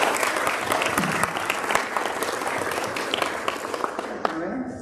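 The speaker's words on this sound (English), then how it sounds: "let's give her a round of applause" An audience at a sports awards ceremony applauds, dense continuous clapping filling the room, steady and fairly loud before tapering off at the end.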